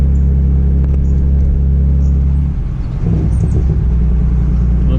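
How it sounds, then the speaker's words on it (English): A Genesis car with its muffler and resonator deleted gives a deep, loud, continuous exhaust rumble close by. The tone shifts and burbles unevenly about halfway through as the throttle lifts. "you see it's got that little bit of rumble when you let off the gas."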